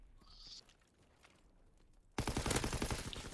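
Gunfire in the video game Call of Duty WW2, a quiet lull with faint steps suddenly broken by a loud, rapid automatic burst that keeps rattling to the end.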